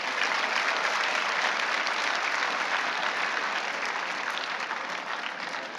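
Sustained, dense applause from a large audience at a kindergarten annual day, a steady wash of clapping that holds loud throughout and eases slightly toward the end, with no distinct voices.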